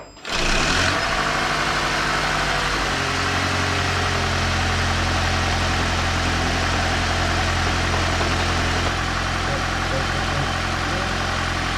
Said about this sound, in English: and then I'll start the engine and check it again